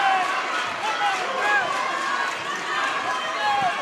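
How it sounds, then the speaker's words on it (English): A high school basketball game crowd makes a steady roar in a gym, with sneaker squeaks, whistles and cheering blended together, alongside an announcer talking. "Both crowds really into it."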